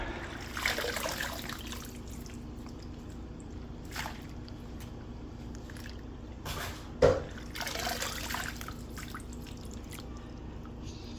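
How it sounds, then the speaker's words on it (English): Leafy greens are swished and rinsed in a water-filled sink or bowl, giving soft steady trickling and dripping with a few brief splashes, one sharper splash near the middle, close by with no talking. "Okay, it's time to rinse some more."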